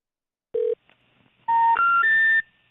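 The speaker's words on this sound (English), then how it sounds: "I'm calling this other number anyway, just because it's probably going to be a wrong number" A telephone number is dialed on a keypad: one short tone, a pause, then a quick run of three rising beeps, each clear, close and with no talking.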